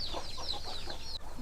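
Native country hen clucking beside her chicks on a farm, a run of soft, repeated close clucks and chirpy calls over a faint background, with no talk.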